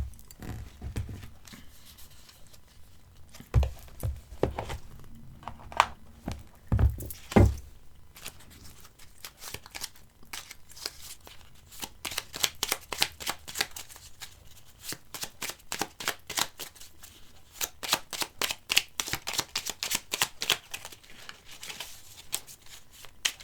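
A deck of Petit oracle des contes merveilleux cards is shuffled by hand up close, with a few sharp taps followed by long runs of quick, crisp riffling flutters.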